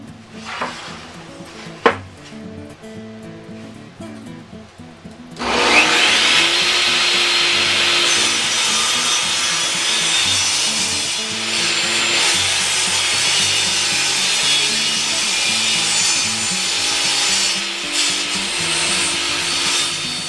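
A saw blade cuts through the lid of a wooden treasure box. A few faint knocks come first, then a loud, steady, rasping whine runs unbroken to the end.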